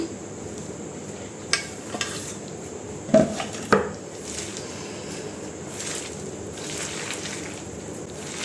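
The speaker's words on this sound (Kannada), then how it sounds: "ಇವಾಗ ಈರುಳ್ಳಿ ಮತ್ತು ಸೊಪ್ಪು ಎರಡೂ ಹಾಕಿ ಮಿಕ್ಸ್ ಮಾಡ್ಕೊಳ್ತಾ ಇದ್ದೀನಿ" Chopped onion and palak greens being mixed by hand with masala for palak kebab, soft squishing and rustling under a few louder clanks of a metal bowl or utensil near the middle.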